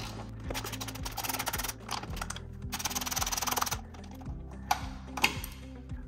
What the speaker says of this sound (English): Use that 10 millimeter and remove these two bolts.